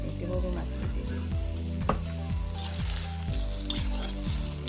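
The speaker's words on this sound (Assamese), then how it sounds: "এতিয়া সৰু মাছটো দি দিম।" Small fish dropped into a sizzling pan for an ash gourd curry, a steady close frying crackle running throughout with regular tonal music underneath and no talk.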